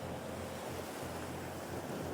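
Sea waves surge and splash up against the shore in a steady, loud wash of surf, with wind buffeting the microphone throughout and no voices.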